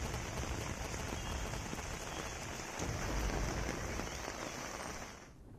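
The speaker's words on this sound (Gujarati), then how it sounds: "આજે વહેલી સવારથી અનેક વિસ્તારોમાં વરસાદ વરસ્યો છે" Steady rain pours down during an early-morning downpour, a dense, continuous hiss of drops striking surfaces that holds evenly throughout before easing slightly at the very end.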